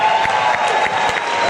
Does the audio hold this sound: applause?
yes